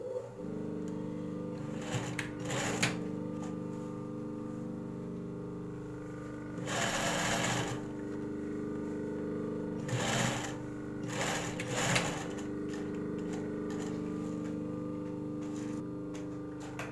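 A sewing machine stitches fabric for an eyelid-shaped cover with elastic, running in several loud bursts of rapid stitching separated by short pauses, over a steady background hum.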